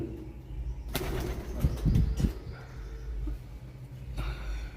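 Pigeons coo softly amid a constant low hum at a temple shrine, with a few brief bursts of wing flapping in the middle of the recording.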